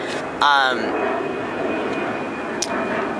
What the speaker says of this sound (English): If you hear a plane go by, I apologize.